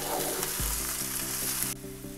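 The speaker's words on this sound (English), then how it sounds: "I'm going to just let these onions sweat for a few minutes" Onions sweat and sizzle softly in a pan for veg pulao, a steady fine crackle with a faint low hum underneath and no voices.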